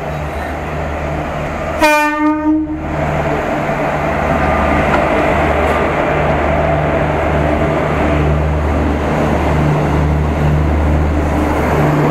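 Dhauli SF Express (12821, Shalimar to Puri), an LHB-coach train, sounds a loud horn blast near the two-second mark, then a steady rumble of the running train continues throughout at close range.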